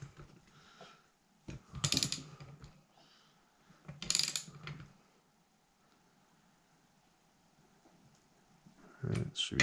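Bolts being snugged down on an aluminum-bodied Edelbrock Performer carburetor during a rebuild, heard as a few separate bursts of ratcheting and metallic clicking with quiet gaps between them, close by, with no talk.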